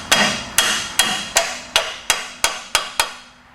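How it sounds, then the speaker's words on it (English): A hammer strikes a water pump being installed on a 1965 Buick Skylark 455 big block nine times in an even, steady rhythm, each sharp close blow ringing briefly before the next. "You really shouldn't have to use a hammer to install your water pump."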